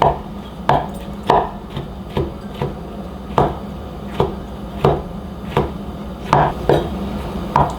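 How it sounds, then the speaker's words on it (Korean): A knife chops shiitake mushrooms finely on a cutting board for a beef and glutinous rice porridge. Crisp, evenly spaced chops land about once every second, close and clear, with no talking. "잘게 썰어줍니다"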